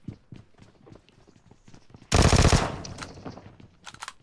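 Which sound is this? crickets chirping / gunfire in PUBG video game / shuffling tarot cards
gunfire in PUBG video game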